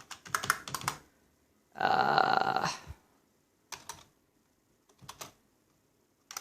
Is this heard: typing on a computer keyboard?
yes